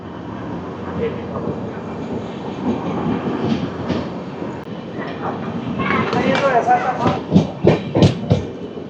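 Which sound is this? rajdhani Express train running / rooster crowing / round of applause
rajdhani Express train running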